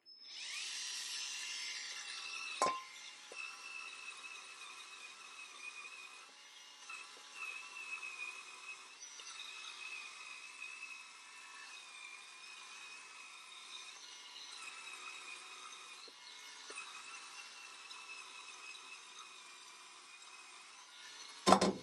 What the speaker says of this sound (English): I'm going to use the terry cloth brush on here, and I'll work that in